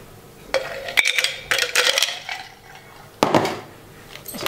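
Ice cubes drop into a blender jug while a vodka sunrise cocktail is being made, giving loud clattering, clinking knocks in irregular bursts, close up, with no talking.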